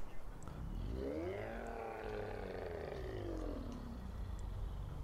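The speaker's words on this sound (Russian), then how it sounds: "слышал какой-то крик. Какой-то вой. Похоже на рёв монстра." A monster's roar in the 2021 horror film Forest Monster, one long drawn-out bellow that rises and falls in pitch over several seconds against a low rumbling background.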